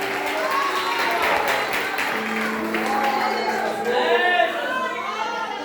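A church congregation applauding during a prophetic worship service, a sustained wash of clapping with cheering voices and chatter layered over it, full and steady throughout.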